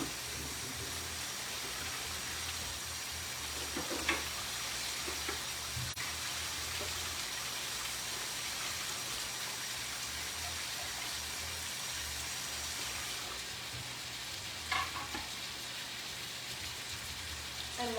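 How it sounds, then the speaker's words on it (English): Food frying in a pan with mayo and garlic gives a steady, soft hiss and crackle of sizzling oil that runs throughout, with a few louder pops and no talking. "So we're going to let this fry a little bit."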